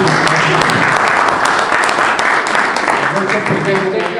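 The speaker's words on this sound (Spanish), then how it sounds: "Un aplauso para el señor Parra." Sustained applause from an audience welcoming Mr. Parra, president of C.I Milpa S.A., dense and even clapping that carries through from start to finish with some voices mixed in.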